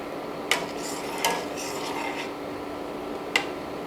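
Milk being stirred in a pot on the stove while it heats for homemade white cheese, a soft close scraping rasp with a few sharper spoon knocks against the metal, no voices.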